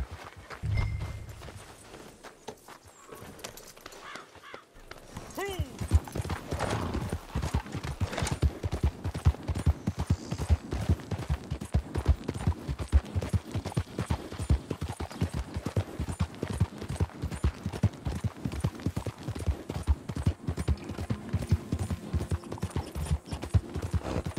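Hooves of a ridden horse in Red Dead Redemption 2 clip-clop in a steady, even walking rhythm, close and clear, after a quieter opening few seconds.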